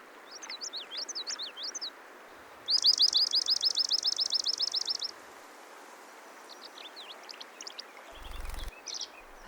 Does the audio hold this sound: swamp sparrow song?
yes